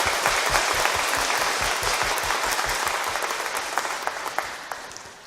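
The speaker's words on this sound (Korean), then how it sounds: "우리 본당에 오신 청천분회 회원들의 박수 한번 해주세요." A church congregation in its parish hall applauds visiting members of a sister parish group, a dense sustained wash of many hands clapping that gradually tapers off, close and loud with no talking over it.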